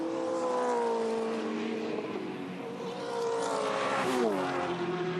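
Touring Car Masters race cars at Queensland Raceway, V8 engines droning steadily at speed, with one car's note sweeping as it passes near, no voices.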